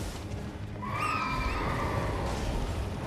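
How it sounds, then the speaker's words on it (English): A horse in Elden Ring lets out a single rising, whinnying neigh, clear and fairly close, over a steady bed of low in-game ambience and rumble. "Horse is back."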